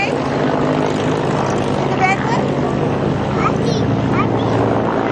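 A propeller airplane takes off at an airshow, a loud, steady droning engine roar filling the whole stretch, with brief voices and chirpy sounds faintly over it.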